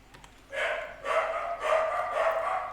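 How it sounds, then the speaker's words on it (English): Dogs barking in another room of a house, a run of several muffled barks in quick succession, moderately loud and unaccompanied by talk. "Hang on, my dogs are barking."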